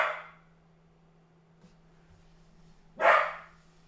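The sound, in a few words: dog barking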